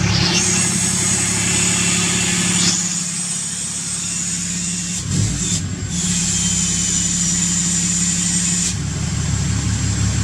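A Cummins 6.7 diesel truck engine idles steadily with the exhaust brake engaged, giving a loud, continuous drone with a high whistling tone that briefly drops out and returns, close by with no talking.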